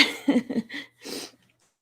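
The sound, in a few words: man coughing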